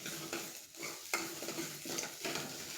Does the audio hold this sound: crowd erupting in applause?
no